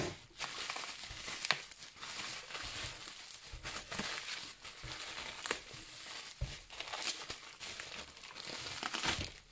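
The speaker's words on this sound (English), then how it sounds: "let's just open up the bubble wrap and then we'll open up the oils" Bubble wrap is pulled off a package of fragrance oils, giving irregular close crinkling and rustling with sharper crackles, quiet but continuous throughout.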